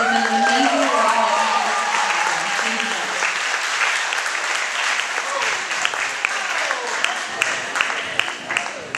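Sustained applause from a theatre audience after a stage performance fills the space, steady and loud, with voices and a few cheers mixed in throughout.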